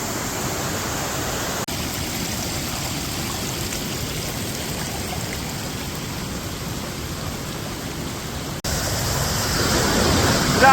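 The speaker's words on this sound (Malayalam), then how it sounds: "ഇതാണ് കോതമാറ വാട്ടർഫാൾ" Kothapara waterfall roars in a loud, unbroken wash of falling water in heavy rain. The sound stays constant throughout and swells slightly toward the end, with no voices.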